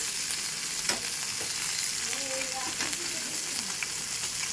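A pan of frying fish gives off a steady, close hiss and crackle, with a couple of sharp clicks from a utensil and faint tonal background sounds partway through, no talking.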